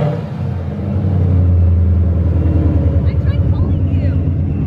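A Terminator Cobra's engine rumbles loudly and close, a deep steady throb that builds slightly and holds, with some talk mixed in.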